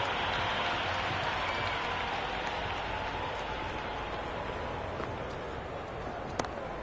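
Spectators at a Vijay Hazare Trophy cricket match, Baroda against Jammu & Kashmir, clapping in a dense, hissing wall of applause that fades gently over several seconds, with a single sharp knock near the end.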